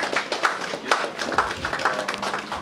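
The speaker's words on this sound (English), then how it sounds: "Ladies and gentlemen, a round of applause for Castina" An audience at a Mr Teen Nigeria pageant claps for a contestant, a scattered, uneven run of handclaps with irregular peaks, moderately loud and close.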